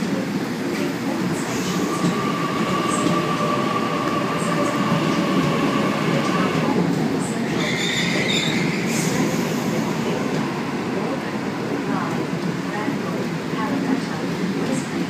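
A Sydney suburban train, set A30, pulls into platform 1 at Hornsby station, its steady rumble and rolling wheels filling the scene, with faint squeals and clatter as it arrives, loud and close throughout.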